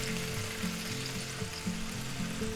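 Two pats of butter melt in a hot pan with a dense, even sizzle that crackles throughout, heard close and alone over soft background music.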